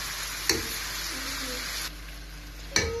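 Liver fries in a pan with a steady, soft sizzle, with a couple of brief clinks or scrapes from stirring.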